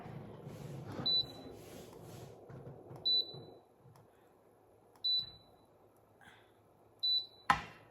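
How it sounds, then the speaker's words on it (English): An induction cooktop gives four short electronic beeps at an even, roughly two-second pace, crisp and close, over faint background clatter, with a frying pan on it that may not suit induction. "I don't know why it keeps beeping."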